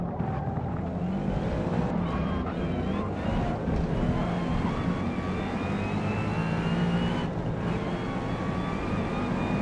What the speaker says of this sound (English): Car makes wonderful noises.